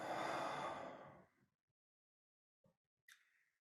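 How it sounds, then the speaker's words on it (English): A deep, slow exhale of breath rushes out loudly and close, fading into silence, followed by a faint small breath sound. "deep exhale"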